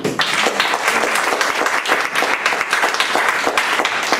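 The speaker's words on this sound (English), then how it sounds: "Will you please applaud" Audience applause for Chandu Sa at an India Discovery Center cultural history event, a lively burst of many hands clapping close by, with individual claps standing out in the steady wash.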